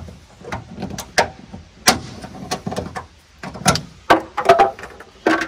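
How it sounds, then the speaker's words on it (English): Plastic pry bar working a trim cover loose inside a Ram pickup truck cab, a run of close clicks, scrapes and snapping pops of plastic at irregular intervals, with a final cluster of sharper pops. "we're just going to take a little plastic pry bar here and pop out this cover."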